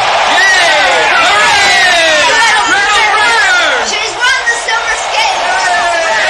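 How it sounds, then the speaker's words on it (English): A large crowd roars and cheers wildly at an ice skating race as the girl in the lead wins, a dense, loud, continuous wall of excited voices that sustains throughout. "The crowd went wild."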